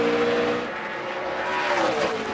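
NASCAR race cars in the 2012 Pioneer Hi Bred 250 battling for the lead, a loud sustained engine roar with steady tonal whine that dips then rises as the pack passes close.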